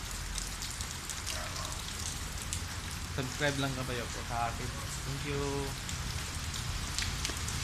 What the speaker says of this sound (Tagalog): maulan-ulan kasi ngayon eh